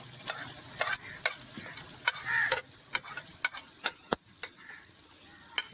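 Pickle masala is stirred into a fish curry frying in a karahi, with a spoon scraping and clinking against the pan in a steady series of sharp ticks over a soft background sizzle.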